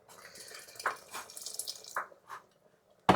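Water is poured into a hot cooking pan in short bursts, giving brief splashes and sputters against a quiet background, ending with a sudden loud clatter.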